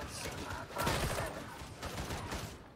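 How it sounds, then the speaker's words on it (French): Explosions in Warhammer 40k Darktide, a dense burst of crackling, booming blasts that rise in the middle and roll on steadily, fairly loud and continuous. "qu'est-ce qui explose comme ça là?"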